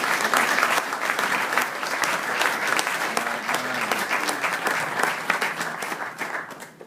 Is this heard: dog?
no